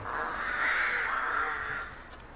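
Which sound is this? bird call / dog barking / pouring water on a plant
bird call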